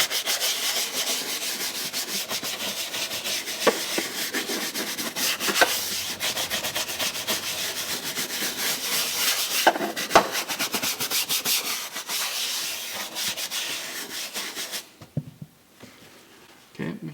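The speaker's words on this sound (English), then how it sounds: "This brush isn't super aggressive, so I'm not worried about it scratching it." A soft detailing brush scrubs the billet plate inside a Volvo XC90. The rubbing and scratching is steady and close, continues for most of the clip, then thins out near the end.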